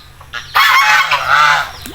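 Geese honk loudly and close by in a burst of overlapping harsh calls from a farm pen shared with chickens and pigs, with a low rumble underneath.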